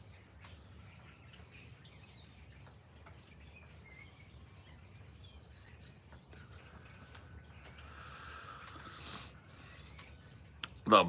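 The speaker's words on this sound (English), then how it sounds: "Man, the birds are wild today." Many birds chirp and tweet outdoors, a busy overlapping chorus at moderate distance, with a brief louder burst right at the end.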